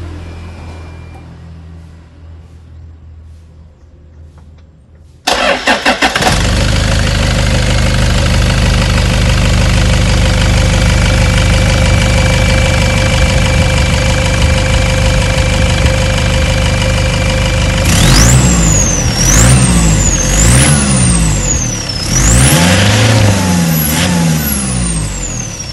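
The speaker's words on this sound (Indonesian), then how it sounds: "Kalau dari area mesin seperti itu ya, lumayan terdengar ada jangkriknya." A Toyota Innova/Fortuner 2KD non-VNT diesel engine with a new exhaust downpipe cranks and catches after a quiet stretch, then settles into a loud, steady clattering idle, followed by several rising and falling revs near the end.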